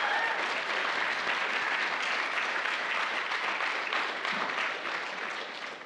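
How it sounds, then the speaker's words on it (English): An opera house audience at a youth talent show applauds the show's founder in the front row, a full, even roar of clapping that holds steady and fades slightly at the end. "Let's give him a round of applause."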